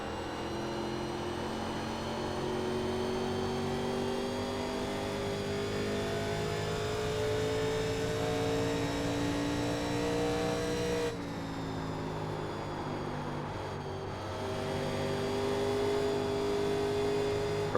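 NASCAR Legends 1987 stock car engine in iRacing at Darlington, a loud steady V8 drone holding high revs through a long corner, dipping briefly around the middle before climbing again; no talking.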